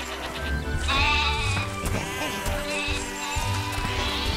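Sheep in the video game Overlord bleating in several overlapping wavering cries, fairly close, mixed with game sound effects.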